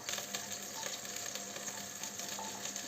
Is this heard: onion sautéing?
yes